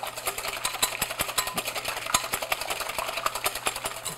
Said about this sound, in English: I'm just using a wire whisk